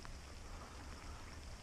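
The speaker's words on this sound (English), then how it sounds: "let's go in and get out of the rain." Steady outdoor rain, a soft even hiss of drops falling without any other clear sound, low and continuous across the short stretch.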